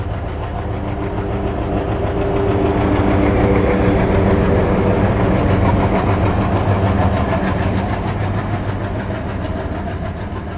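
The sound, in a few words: train passing at a railway crossing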